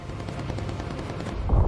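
Bomber gunners fire incendiary rounds in the video game Bomber Crew, a short rattling burst of rapid machine-gun shots with a heavier thump at the end, steady and fairly loud.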